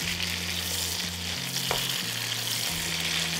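Tomato goes into a sizzling pan for a Bengali vegetarian ridge gourd dish with coconut and peanuts, frying with a steady, close hiss while being stirred, with occasional scraping.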